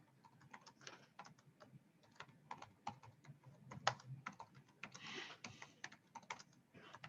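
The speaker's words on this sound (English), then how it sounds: "I'll type it." Quiet, close typing on a computer keyboard comes in irregular bursts of sharp clicks and key taps, with a few louder strokes and no voices.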